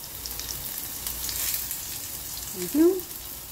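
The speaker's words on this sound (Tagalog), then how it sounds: "Pag-brown ng garlic, ilagay ang patola." Garlic sautés in cooking oil for ginisang patola, a steady close sizzle and crackle throughout, with a short voice-like tone near the end.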